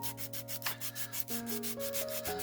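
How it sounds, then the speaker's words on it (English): Someone hand-sands a diecast hot rod model, a Santa's hot rod build. Faint rhythmic rubbing strokes sit over a steady background of sustained musical tones. "let's just do a little bit of sanding to get a better grip"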